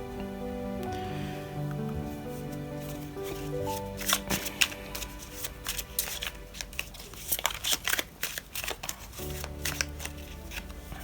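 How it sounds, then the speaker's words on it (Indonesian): Tarot cards shuffled by hand, with a close, steady riffle and crisp flicking bursts rising and falling for several seconds, mostly alone with only a faint background hum. "Kemudian kita akan buka lagi dari kartu tarot."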